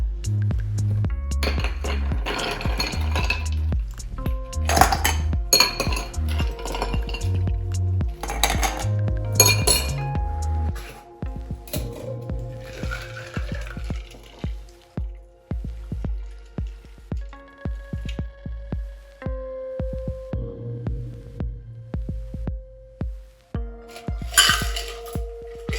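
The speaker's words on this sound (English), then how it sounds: "add ice to our glass and strain in our margarita" Ice and a margarita strained into a salt-rimmed glass, a series of bright clinks and rattling ice knocks in bursts, then drips and sparse clicks, close and clear with no talk.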